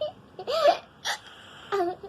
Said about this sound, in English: Anything else you want to hiccup in this video?